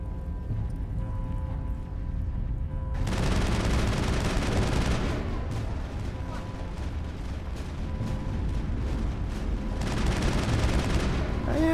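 Gunfire in the video game Mass Effect strikes the player's character, a dense, continuous barrage of shots and impacts that swells loud after a quieter opening and stays heavy throughout.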